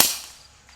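A single sharp shot from an FX Power-Pup synthetic air rifle fired at max power, a loud crack right at the start that decays quickly into a faint ringing tail.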